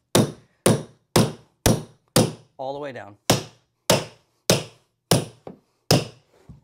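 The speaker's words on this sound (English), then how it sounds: "we'll take our tucker and our hammer" Sharp hammer taps drive a carpet tucker into a stair tread, about ten evenly spaced close blows with a brief harsh scraping sound between them and a short voice near the end.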